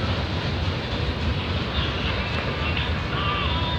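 A CN freight train rolls past in Burlington, Ontario with a continuous loud rumble and rail noise. Faint squeals ring out near the end, and no one speaks.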